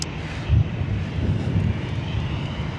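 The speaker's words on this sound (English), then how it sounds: "A350-900, China Airlines coming in from Taipei." A China Airlines Airbus A350-900 airliner lands at LAX with a steady low jet rumble, moderately loud and somewhat distant, with a slight swell early on and no voices.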